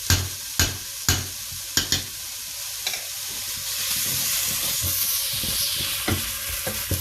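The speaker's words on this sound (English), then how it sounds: "now you want to go ahead and add a good tablespoon of butter." Butter sizzles with onions in a pot for seafood chowder, a steady close frying hiss broken by several sharp stirring clatters of a utensil against the pot.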